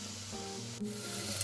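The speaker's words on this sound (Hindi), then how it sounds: "तो इतने हमारे वो फ्राई हो रहे हैं।" Oil frying food over a medium flame for tandoori roti accompaniments, a steady soft sizzle with faint low hum running continuously, one brief louder crackle midway.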